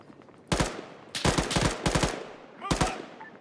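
Short automatic bursts from an M4A1 rifle in the Arma 3 combat game, four loud, rapid volleys at close range separated by brief pauses.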